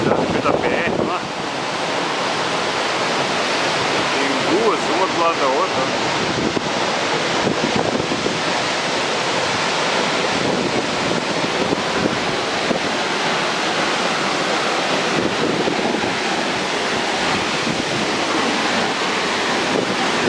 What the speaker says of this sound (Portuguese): Essa é a última cachoeira da BR lá.